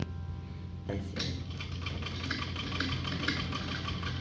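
A sewing machine stitches a salwar corner, a steady mechanical whir with rapid needle rhythm that starts after a short lead-in and runs close and continuous at moderate loudness.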